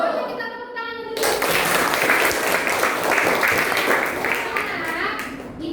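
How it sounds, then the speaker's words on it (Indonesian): A group claps together in a classroom coding lesson, the applause starting abruptly after brief speech and continuing as dense, steady clapping from many hands, with children's voices mixed in. "Ayo kita tepuk tangan dulu."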